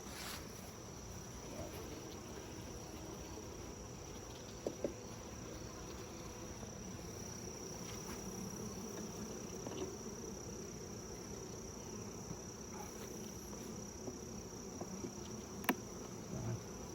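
Honey bees in a mating nuc hive drone faintly and continuously outdoors, with occasional small clicks and taps over a constant high-pitched background whine.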